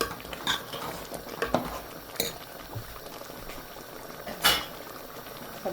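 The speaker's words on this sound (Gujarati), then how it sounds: "પાણીને ઉકળવા દેવાનું" Water boils vigorously in a pot on the stove for prawn biryani, a continuous bubbling hiss broken by occasional clinks of utensils against metal.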